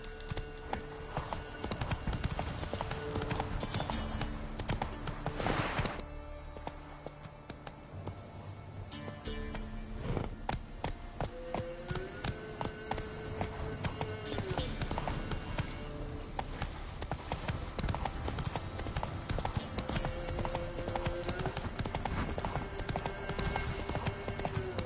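Roach the horse galloping in The Witcher 3, with rapid rhythmic hoofbeats throughout, occasional snorts and a short whinny, over game ambience and music.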